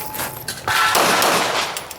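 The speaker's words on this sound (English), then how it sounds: "He got 2 rounds on the spinner." Pistol shots ring out at an IDPA match at Mecklenburg Wildlife Club, rounds striking a steel spinner target with metallic clangs, a quick cluster of loud, near cracks and impacts over about two seconds.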